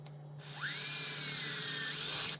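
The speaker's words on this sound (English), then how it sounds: "Now I'm using my 1/4 inch impact here" Quarter-inch impact driver with a magnetic tip spinning a hex-head screw during a Honda Rebel 300/500 LED headlight conversion: one continuous high-pitched whir that rises as it spins up, runs steady for about two seconds, then stops, close and alone with a low hum beneath.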